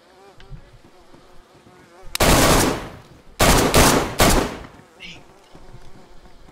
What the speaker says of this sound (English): Hey, this AK has too much recoil.